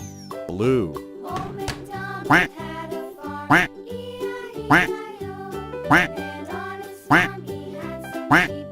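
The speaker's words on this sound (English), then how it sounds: "Quack." Duck quacks repeat in a steady series of loud, nasal calls about once every second, close and clear with short gaps between them.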